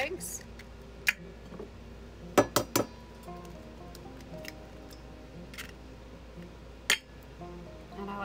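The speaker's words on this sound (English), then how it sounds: "let's go ahead and get our eggs cracked. We need 2 eggs" Two eggs cracked into a bowl for cornbread batter: a few sharp clinks and taps against the rim stand out over steady talking, with quieter handling sounds between.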